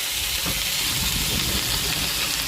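Pork frying in a pan with sautéed onion and garlic gives a loud, steady, even sizzle with a hissing, steam-like texture that stays constant throughout.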